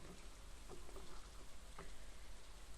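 Steady rain pattering in Stardew Valley, a soft continuous hiss with a few faint droplet ticks, even and unbroken throughout with no voices.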